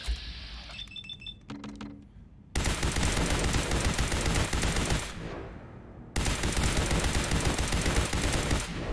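Two long, dense bursts of rapid automatic gunfire from a Fallout 4 weapon on rapid fire. Each burst lasts a few seconds, with a short pause between them and a few faint mechanical clicks before the first.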